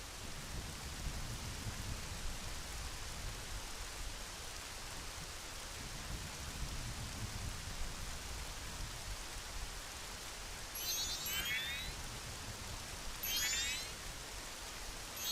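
Rain from The Legend of Zelda: Majora's Mask, a continuous soft wash of falling drops with low rumbling swells, plus a couple of brief bright chiming flourishes near the end, no speech.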